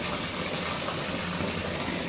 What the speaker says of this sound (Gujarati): અહીંયા જો પાણી શેરીમાં જો પાણી કેવું હાલ્યું જાય